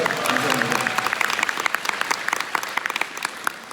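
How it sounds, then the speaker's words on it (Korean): Warm applause rises from a seated audience at a marketing seminar, dense clapping that carries on steadily for several seconds. "자기 자신에게 뜨거운 박수 한번 보내고 시작해볼까요?"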